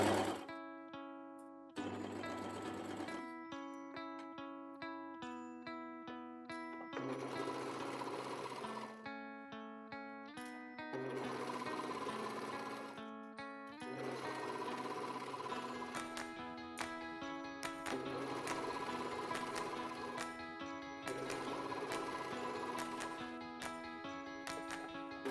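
An overlocker (serger) stitches and trims fabric in loud, fast mechanical bursts separated by short pauses as the material is repositioned, with no talk over it.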